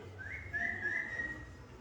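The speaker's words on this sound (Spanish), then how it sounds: "yo hago silbo." A person whistles a rising, sustained call to a pet dog, a few connected tones against quiet background noise, with no talking.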